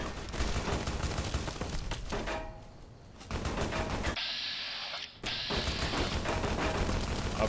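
Rapid enemy gunfire in a video game rattles in dense, fast bursts, loud and close, broken by brief pauses and a short stretch of tonal effects before the shooting resumes.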